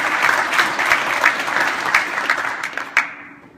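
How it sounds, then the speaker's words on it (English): A church congregation claps hands in praise during a sermon, a dense, loud burst of applause that carries steadily for about three seconds, then tapers off quickly into quiet. "Give him a hand clap of praise."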